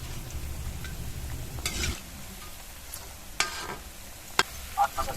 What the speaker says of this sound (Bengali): সব সাইডটা সমান করে ভেজে নিতে হবে।